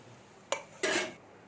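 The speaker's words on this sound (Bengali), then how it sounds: "মাছগুলো ভেজে নিয়েছি আর নামিয়ে নিচ্ছি।" Fried rohu fish is lifted out of a pan, one short metallic clink and then a brief scraping clatter of utensil on cookware, close and fairly quiet, over a soft background with no talking.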